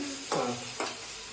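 Garlic paste being stirred into a dish, two short scraping strokes close by over a low background hum.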